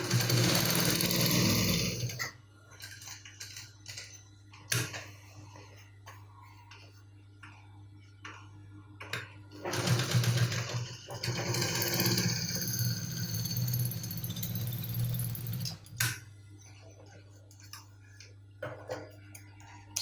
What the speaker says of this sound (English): So I'm going to stitch this back this way.